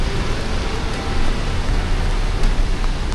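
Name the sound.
rain at Bondi Beach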